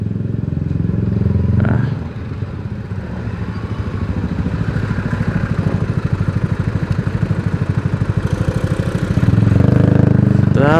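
A motorcycle engine with a stock exhaust runs steadily with a fairly quiet, muffled exhaust note, then revs up briefly near the end.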